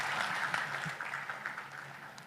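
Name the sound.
audience applause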